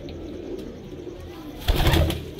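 Pigeons cooing in a loft of fancy breeding birds in Faisalabad, a soft low murmur running throughout and swelling louder near the end.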